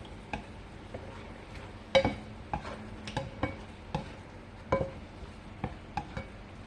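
Spoon stirring and scraping a milk-flavored mixture in a pan, with irregular sharp clinks and taps against the metal over a soft background, no talking.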